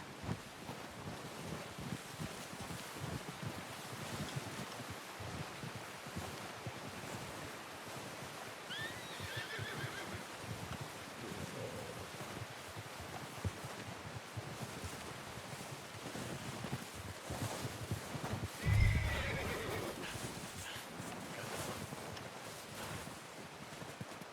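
A horse in Red Dead Redemption 2 gives a whinny and a snort against steady wind and outdoor ambience, with one louder burst near the end and soft movement sounds; no talking.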